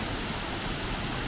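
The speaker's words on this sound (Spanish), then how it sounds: "Fijaros qué tremenda cascada tiene. No me esperaba que fuera tan alta." A tall waterfall on the Ulla river roars as a dense, unbroken rush of falling water, loud and close, filling the whole moment with no voices.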